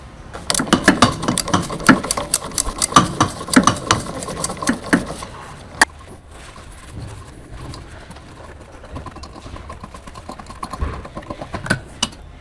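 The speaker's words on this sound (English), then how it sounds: "Using the large 15mm short socket with large short extension bar and large extendable ratcheting wrench, remove the rear shock absorber lower mounting bolt." A long extendable ratchet wrench with a 15mm socket and short extension loosens the lower rear shock absorber bolt on a Ford Focus ST, giving rapid, close metallic ratchet clicks in bursts, then a quieter stretch with sparse clicks.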